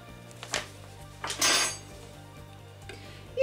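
A utensil stirs a cabbage casserole with sour cream and spices in a pan, giving a few scattered clinks and one longer scraping swish against the metal over a faint steady hum, with no talk.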